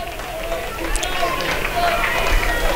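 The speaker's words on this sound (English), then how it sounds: "Can hear the crowd starting to get behind him just a bit." A college baseball crowd rises in cheers and applause behind a batter fighting off pitches, a broad, steady swell of voices filling the ballpark.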